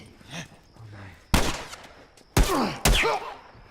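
Bursts of gunfire in The Last of Us, three sharp loud volleys at irregular intervals with quieter game sounds and faint voices between them.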